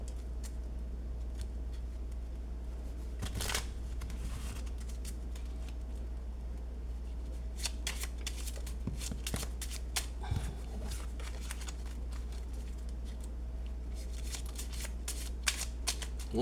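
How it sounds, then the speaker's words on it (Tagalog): A deck of playing cards is shuffled during a magic trick. The riffles come as repeated crisp flurries of fluttering snaps over a low steady hum, close and fairly quiet, with brief gaps between passes. "Balasahin natin maigi."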